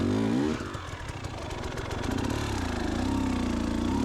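Hard enduro motorcycle climbing a steep slope in training, its engine loud and close, revving and bogging with uneven pitch swings and clattering, and no voices over it.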